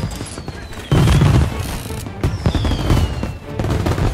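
Machine gun fire in Mafia Definitive Edition crackles in loud, rapid bursts with heavy booming impacts, layered under a dense game soundscape.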